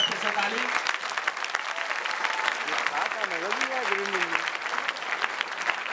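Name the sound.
audience applause after Godaan stage performance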